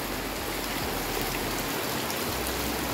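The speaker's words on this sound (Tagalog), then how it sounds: "Sobrang lakas ng ulan." Heavy rain pours down in a dense, constant roar, close and loud throughout with no pauses.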